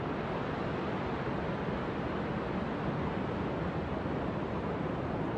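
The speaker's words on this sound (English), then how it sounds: "I thought it would be really nice to have the crashing of the waves." Ocean waves break continuously on a beach at Agadir, Morocco, making a steady, loud, broadband wash and roar that holds an even level throughout, with no pauses and no voices.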